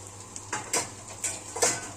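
Cut macaroni and vermicelli being stirred and browned together in a single pot for Egyptian koshari: a steady low sizzle with four or five sharp scraping stirs against the metal, close and fairly quiet.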